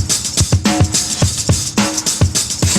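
A funky breakbeat drum loop, warped to 160 BPM, with punchy kicks, crisp snares and busy hi-hats in a steady syncopated pattern, loud and close with no talking.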